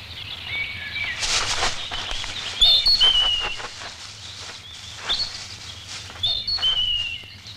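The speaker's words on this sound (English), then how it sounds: "do not take a shot every time you hear that bird call" A recurring bird call from the soundtrack of the Jean Rollin horror film Zombie Lake gives short whistled chirps over a hissy background with faint footsteps and rustling, no speech.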